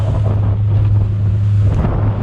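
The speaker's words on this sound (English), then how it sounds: "Driving straight out into a rain squall." A fishing boat heads out into a rain squall, with steady wind buffeting and a low droning engine hum beneath a wash of spray and rain noise, continuous and close.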